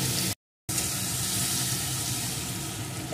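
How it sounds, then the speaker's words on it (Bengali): Garlic and green chili paste frying in a hot pan, giving a steady, dense sizzle throughout, briefly cut out near the start. "এখন দিয়ে দেব কয়েকটা রসুন আর কয়েকটা কাঁচা লঙ্কা বাটা। এটাকেও ভালো করে একটু ভেজে নেব।"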